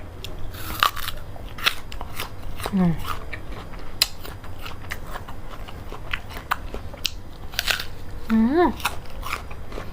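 Crunchy bites into chocolate-coated jumbo jujube fruit, with repeated close crackling crunches and chewing through the clip, while a voice speaks briefly in between.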